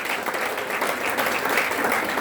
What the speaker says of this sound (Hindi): दोस्तों एक बार जोरदार तालियां मैं चाहूंगा, ये जोरदार तालियां।